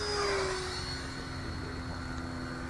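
An eFlite F-16 RC model jet makes a low pass, its engine a steady whine that stays fairly constant with a slight falling pitch early on, heard at moderate distance outdoors.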